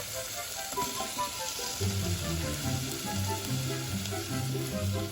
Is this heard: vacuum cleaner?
no